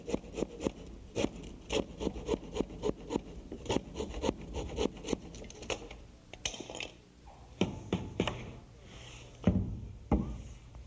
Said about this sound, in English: saw it off with a handsaw